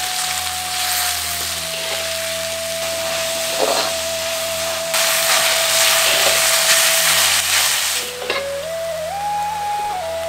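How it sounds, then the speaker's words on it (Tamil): Four hundred grams of large onions with a little salt frying in oil for crispness, a steady loud sizzle and hiss that carries on without a break, with a faint tone sliding in the background. "இப்ப கொஞ்சம் எண்ணெயில 400 கிராம் பெரிய வெங்காயம், அதோட கொஞ்சம் உப்பு சேர்த்து நல்லா மொறுமொறுன்னு வறு"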